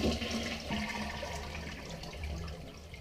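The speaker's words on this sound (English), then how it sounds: "So you let all water drain." Water drains out of a toilet tank, a close, steady rushing gurgle and trickle with small splashes, gradually easing.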